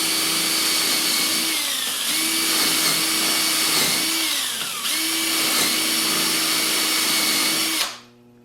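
A drill boring shelf pin holes with a 1/4 inch brad point bit into cabinet case stock clamped to a bench, a loud close whine with repeated dips in pitch as each hole is cut, then winding down.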